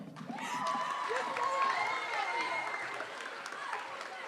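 Audience at a districtwide school assembly for Black History Month applauding and cheering, a steady broad wash of clapping with voices rising through it, sustained and fairly close throughout.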